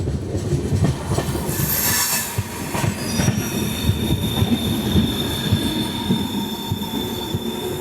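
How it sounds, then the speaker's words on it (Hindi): A train rolls along the line toward Bhusawal Junction, heard from aboard an Indian express with steady rumbling, clacking wheels and a high metallic squeal, loud and continuous, without talk. "तो यहाँ पे सामने वाली लाइन आ रही है भूसावल जंक्शन की तरफ से। कोई तो ट्रेन आ रही है उस तरफ से।"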